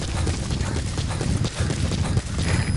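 Horse hooves clip-clop in a brisk, continuous rhythm across wilderness ground in the Metal Gear video game, close and steady with faint game ambience behind.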